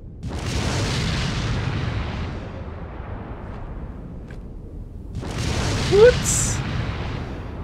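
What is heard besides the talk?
explosive grenade explosion in Resident Evil 4 video game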